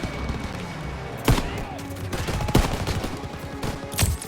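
Call of Duty WW2 battle with mounted vehicle machine guns: a steady clatter of distant fire underneath, punctuated by three sharp louder shots roughly a second apart, no talking.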